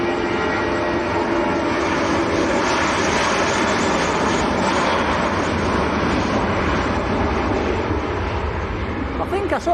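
A passing aircraft at Manchester Airport, a steady broadband engine roar that holds loud and continuous for the whole stretch without clear rise or fade, with faint voices under it.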